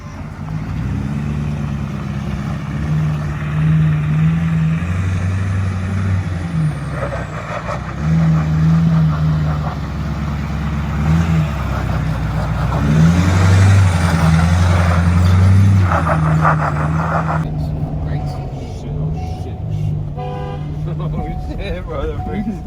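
A custom-built 6x6 truck drives and makes a tight U-turn, its engine droning and shifting in pitch steadily and loud throughout, with people talking over it.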